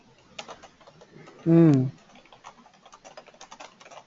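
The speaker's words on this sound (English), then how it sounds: "I'm just typing this furiously" Fast typing on a computer keyboard gives a quick run of close, light clicks throughout, briefly covered by a short loud voice partway through.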